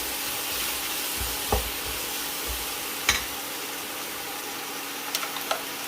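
Prawns frying in a pan with spice powders as they are mixed together, a low steady sizzle with a few distinct spoon taps and scrapes against the pan.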